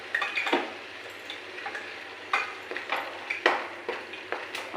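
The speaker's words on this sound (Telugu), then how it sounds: "ఇప్పుడు ఇందులో కట్ చేసి పెట్టుకున్న టమాటా ఒకటి వేస్తున్నాను." Chopped tomato tossed into a hot pan, giving a quiet steady sizzle of frying punctuated by sharp stirring clinks and scrapes of a utensil against the pan, with no talking.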